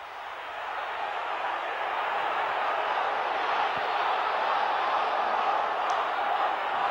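A Warrington rugby league crowd at the Fletcher end of the ground, a steady, distant roar of displeasure that swells slightly and holds throughout, with no clear individual voices standing out.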